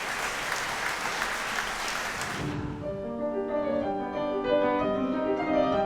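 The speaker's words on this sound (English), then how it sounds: "At the end of the children's concert, the Council of Europe's leading officials gave a standing ovation." Officials giving a standing ovation after a children's concert produce a dense burst of applause for about two and a half seconds, which then gives way to sustained piano music.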